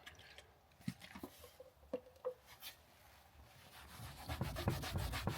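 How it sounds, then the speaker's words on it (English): A cloth or rag rubs turpentine-softened paint off the body of a car being tidied up, giving scattered scrubbing strokes and small knocks that swell into steady, louder rubbing toward the end, with no talking. "Actually helps it rub off the surface."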